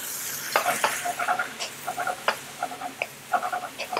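Mushrooms, onion, garlic and bacon frying together in a pan for a British-style penne carbonara, a close sizzle punctuated by repeated scraping stirs and light clacks of a spoon, irregular rhythm, no voices.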